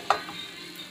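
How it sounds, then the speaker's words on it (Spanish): Chicken frying in a pan gives a soft, constant sizzle at close range, with one sharp clink of a utensil stirring near the start and no talk. "Como pueden ver, yo ahorita estoy friendo lo que es este pollo."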